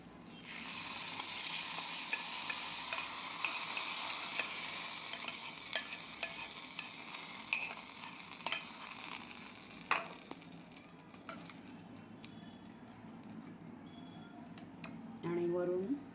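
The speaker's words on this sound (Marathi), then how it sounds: "गॅस बंद करायचा आहे आणि ही फोडणी आपण रायतावर घालूया." Hot tadka with asafoetida poured over beetroot raita, giving a steady close sizzle and crackle throughout, with a few light clinks of utensils near the end.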